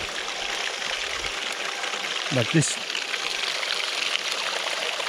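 Dirty creek water splashing steadily from a short pipe during outdoor gold prospecting, a continuous close wash with a brief voice speaking over it.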